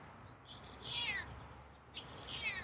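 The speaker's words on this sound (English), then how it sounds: "Some medium meows there." A cat gives two moderate meows, fairly quiet, separated by a short pause, over a low background hiss.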